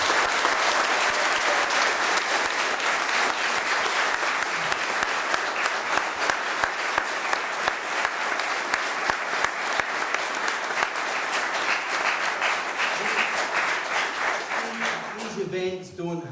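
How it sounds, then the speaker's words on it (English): Sustained audience applause at a technical product seminar, dense steady clapping filling the room for most of the stretch before tapering off near the end. "Have a round of applause, please."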